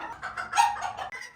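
Fancy chickens cluck in a chicken house, a short burst of several overlapping close clucks and calls with no talking.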